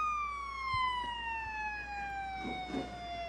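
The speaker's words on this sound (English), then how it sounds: "So we'll sound the horn, please." A horn sounds at a modified-car race restart at Hancock County Speedway, a steady, sustained tone with a slowly falling pitch that lasts the whole stretch over faint background noise.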